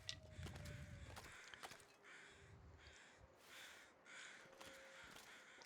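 Crows caw several times, hoarse and fairly distant, over faint crunching footsteps and a quiet background in the wintry survival game The Long Dark.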